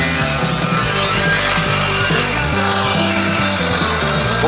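Ceramic siding panels are cut on a shop building's exterior remodeling site, a loud, continuous, harsh grinding-cutting roar that holds steady throughout.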